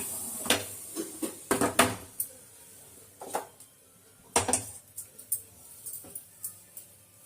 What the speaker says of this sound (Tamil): இட்லி வெந்துச்சுப்பா இறக்கி அதை வச்சிடுவோம்